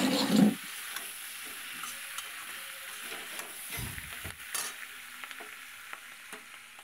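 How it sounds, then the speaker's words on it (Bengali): Morola fish with salt and turmeric is stirred in a pan, a spatula scraping in irregular strokes over a soft sizzle, with one louder clatter near the start and no talking. "এবার নুন হলুদ দিয়ে দিচ্ছি। নুন হলুদ দিয়ে আরেকটু নেড়ে নেব।"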